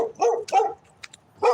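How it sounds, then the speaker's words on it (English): A dog barks three times at a moderate distance, with short sharp yips spaced irregularly and a faint higher squeak between them. "That's a dog."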